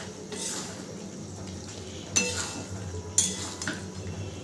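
Chicken curry with green chillies and meat masala being stirred in a pan, with soft scraping throughout and two sharp clinks of a utensil against the metal, over a faint low sizzle.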